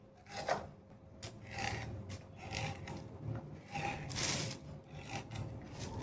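Dried coconut being sliced into thin pieces with a knife for Kolhapuri ghati chutney: repeated rasping, scraping cuts in an uneven rhythm, close and moderately loud, with no talking.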